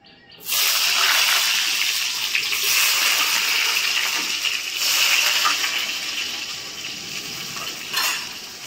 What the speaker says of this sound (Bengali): প্রথমে আলুটা আমি লাল লাল করে ভেজে নেব